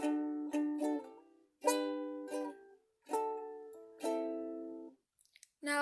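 Ukulele strumming the chords of a song, including C6, as a series of clear, ringing strummed chords with pauses between, played close and alone.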